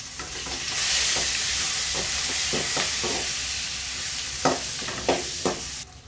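Curry leaves hit hot oil already spiced with star anise and cumin, giving a loud, steady sizzle with crackling pops, then sharp scraping stirs near the end.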